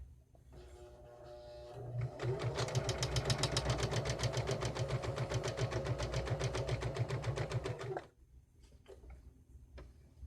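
A home sewing machine stitches a fabric grocery bag holder along an edge, running in a steady, fast rhythmic whir of needle strokes for several seconds before stopping, close and fairly quiet.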